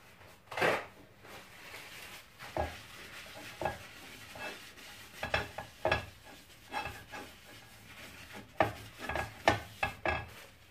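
A pancake pan is greased with oil, giving a series of soft, irregular rubbing and scraping strokes with light sizzling between them. The strokes are close and moderately quiet, with no talk.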